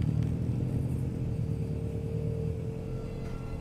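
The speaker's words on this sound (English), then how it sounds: "We're just driving away" A car in the Bigfoot video game drives away with a steady low rumbling engine drone, moderately loud and continuous, with no one speaking.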